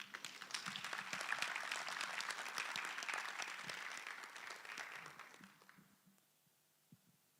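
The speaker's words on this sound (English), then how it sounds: "A round of applause for him." Applause from a conference audience builds quickly into a steady, full wash of claps, then thins out and fades over the last couple of seconds, leaving a few scattered claps in a quiet room.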